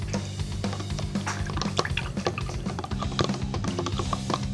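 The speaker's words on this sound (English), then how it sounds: "We'll add 8 ml of propylene glycol. Add it to the mixture and stir thoroughly." Propylene glycol is added to a liquid airbrush-cleaner mixture and stirred, giving continuous close wet sloshing and dripping with small clinks from the mixing, steady throughout.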